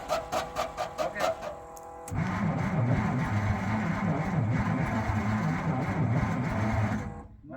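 A flooded vintage 1956 Bombardier narrow-gauge engine cranks steadily without catching, a loud continuous churning after a few short bursts at the start, cutting off near the end.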